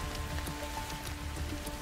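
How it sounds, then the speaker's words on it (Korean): Rain falling outdoors, a dense continuous patter of drops hitting surfaces, with a steady hiss and scattered closer splashes throughout. "올해 진짜 많이 오네, 비가."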